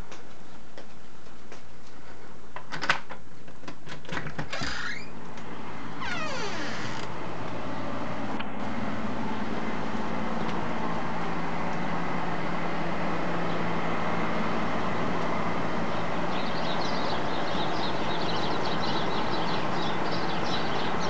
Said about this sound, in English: This is the roof fan and the air conditioner is running.